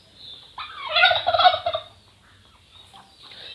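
A hen calling before laying eggs clucks and cackles in a rising, agitated run of calls, loud for about a second, then fading into quiet with faint background noise.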